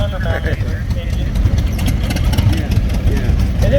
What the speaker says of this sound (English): This one is what's called an undermounted engine.